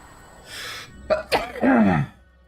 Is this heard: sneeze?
yes